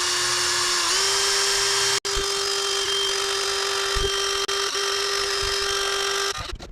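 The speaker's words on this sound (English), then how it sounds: "you can turn the drill any way you want and just hold the reel like this" A steady, high-pitched electric whine of a power drill spinning a fishing reel to strip off its line runs almost continuously, with a few brief clicks and a dip near the end.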